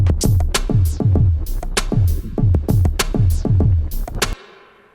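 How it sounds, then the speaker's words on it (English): Rhythmic music with heavy, booming bass hits and bright percussive strikes plays loudly, then stops abruptly and leaves a short, fading reverb tail. "you can also end the music as well with a bit of reverb by doing it like so"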